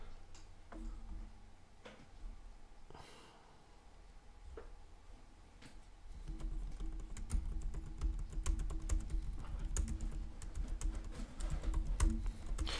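Keys clatter on a computer keyboard in rapid, irregular bursts, sparse and soft at first and then denser and louder in the second half, with no voices.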